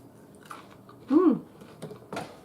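Someone chews a cookie during a taste test, with a few soft close bites and one louder squishy crunch in the middle, set against quiet background.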